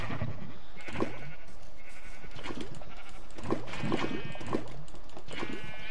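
Sheep in the Minecraft video game bleat repeatedly in short wavering cries, several calls spaced across a few seconds, clear and close with no talk over them.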